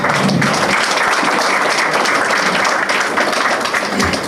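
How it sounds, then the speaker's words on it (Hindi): Loud, dense clapping from a large crowd at a farewell ceremony honoring young men leaving to join the army in Sidhi, continuous and close throughout. "जोरदार तालियों के साथ"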